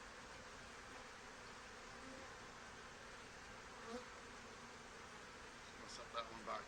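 Honey bees from a just-opened backyard hive make a steady, faint buzzing drone throughout, with a few brief louder passes near the end.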